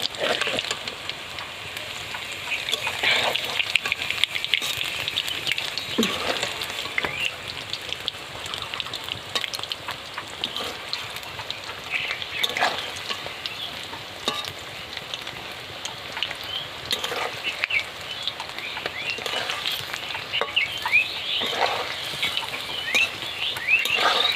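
Banana fritters sizzle and crackle in hot oil as they are flipped, a steady spattering hiss with scattered sharper pops and occasional soft clinks, fairly close and without talk.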